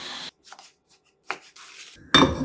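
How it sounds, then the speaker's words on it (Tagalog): A knife cuts tomatoes on a board while making kinamatisang dilis, with a few sharp, separate chops and scrapes in a quiet kitchen, ending in a louder clatter. "Kamatis. Hiwain din natin."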